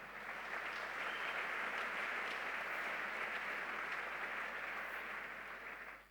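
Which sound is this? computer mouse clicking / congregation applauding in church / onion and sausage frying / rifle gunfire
congregation applauding in church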